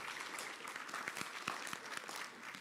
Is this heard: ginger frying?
no